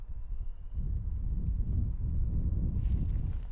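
Wind gusts across an outdoor garden plot, buffeting the microphone with a steady, heavy low rumble that persists throughout.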